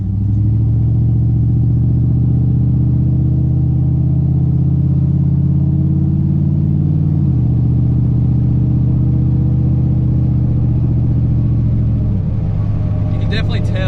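A cammed V8 car fitted with ricer mufflers drives along, its deep, loud, droning exhaust rumble steady and close, briefly dipping as it shifts, with a slight buffeting quality.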